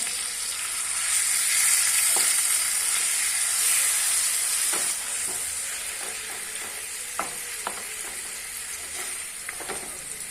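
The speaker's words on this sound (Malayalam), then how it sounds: "മറുവശം കൂടെ ഒന്ന് നന്നായിട്ട് മുരിഞ്ഞ് വരട്ടെ" Peri peri alfaham chicken frying in a pan after being turned, producing a steady, hissing sizzle close by, with scattered crackles and pops that grow more frequent toward the end.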